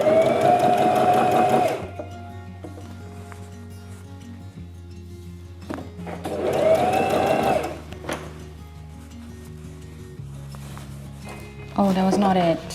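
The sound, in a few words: sewing machine stitching to gather a shirt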